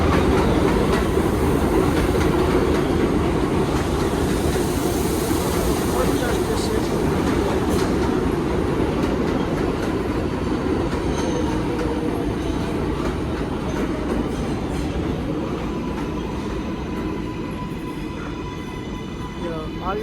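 A New York subway train on the IRT Lexington line roars and rumbles continuously in a station, with steady rattling and a high metallic hiss that eases slightly toward the end.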